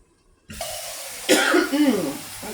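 A sudden burst of harsh coughing and throat clearing, close and loud, following a moment of quiet, set off by seasoning while cooking shrimp and grits in a kitchen.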